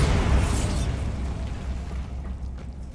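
A Bombarda blasting spell goes off in Hogwarts Legacy, producing a loud, rumbling burst. A heavy low boom decays slowly across the whole span, with a bright crack at the start.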